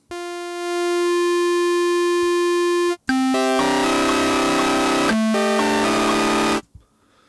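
A buzzy, harmonically rich sawtooth tone from a wavetable synthesizer holds steady, then shifts into a gritty, crunchy distorted version with changing pitches, loud and alone, ending abruptly.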